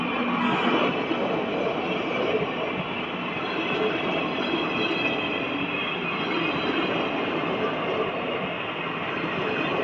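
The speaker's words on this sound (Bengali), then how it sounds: "এটা মনে হচ্ছে গুডস ট্রেন।" A goods train rolls past on a single-line railway in the North East Frontier region with a loud, steady, close roar of wheels and wagons and a faint squeal, holding throughout and with no voices.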